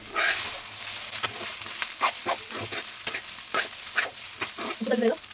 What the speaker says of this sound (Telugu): ఇంకా ఫైనల్గా మొత్తం కలిపేటట్లా కలుపుకుంటే మీకు దగ్గర నుంచి చూపెడతాను